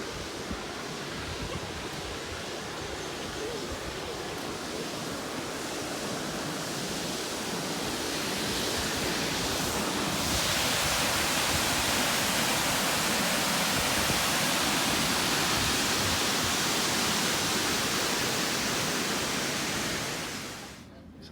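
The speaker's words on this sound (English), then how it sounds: "You can see the waterfall a bit closer." Mealt Falls waterfall on the Isle of Skye, a steady broadband roar heard from a viewpoint, faint and distant at first and growing fuller midway, with some wind on the microphone.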